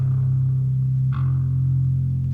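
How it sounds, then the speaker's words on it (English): Two sustained synthesizer bass notes, C then F, played in music software for a drone doom track, a loud, deep tone that shifts pitch about halfway through with a brief attack at the change. "here's our bass notes of the C and the F"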